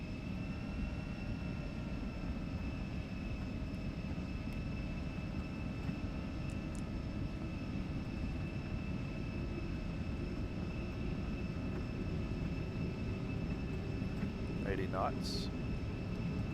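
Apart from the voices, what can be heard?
E175 jet engines spooling up at takeoff, X-Plane 12 video game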